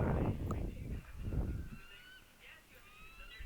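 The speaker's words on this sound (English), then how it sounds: "let's try killing this bird" A goose-like bird in a Yellowstone animal video game gives a few loud honks near the start, followed by quieter game ambience and faint whistling tones.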